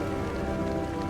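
Hail hammering the deck of a sailboat during a storm with winds over 35 knots, a dense, steady drumming patter that stays loud and continuous throughout.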